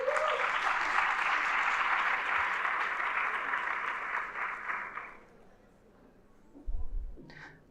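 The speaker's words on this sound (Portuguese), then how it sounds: "a quem eu peço aplausos também" Steady applause from a seminar audience fills the room for about five seconds, then fades out, leaving near-silence broken by a few faint thumps and rustles.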